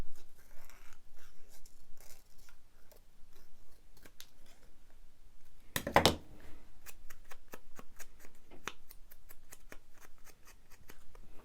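Small scissors trim a scrap of paper down for a junk journal card, making quiet, close snips and faint paper rustles, with one louder handling rustle partway through.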